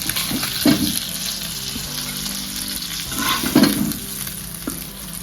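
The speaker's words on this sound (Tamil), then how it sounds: "மசாலா தடவி மீன் பொரிச்சு எடுத்தாச்சு" Masala-coated sankara fish frying in hot oil, a steady close sizzle with a few louder bursts of crackle as the pieces are stirred or turned, no voices.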